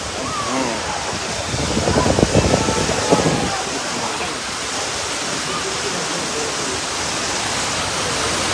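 Heavy rain and wind roar in a loud, constant wash of noise at an outdoor cattle market, with a brief burst of louder gusting early on and a voice faintly underneath.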